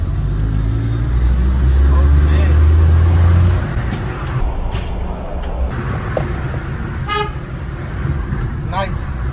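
A 14-year-old Maruti car on a test drive, its engine and road noise a loud, constant rumble from inside the cabin, with traffic and a horn toot outside and people talking.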